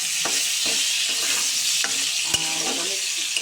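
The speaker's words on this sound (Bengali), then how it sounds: "এই পর্যায়ে আমি এখানে টমেটো কুচিগুলোকে দিয়ে দেবো" Chopped tomatoes go into a pan of frying potatoes, loud close sizzling throughout as a utensil stirs with several scraping strokes and one sharp knock near the end.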